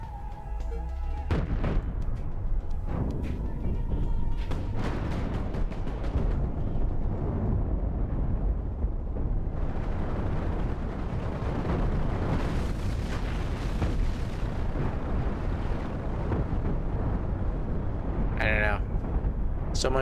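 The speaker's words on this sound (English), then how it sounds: "So many booms." Nuclear weapons detonating in the space ship-building game Cosmoteer, a continuous barrage of loud overlapping booms and blasts rumbling without pause, with a voice talking over the explosions.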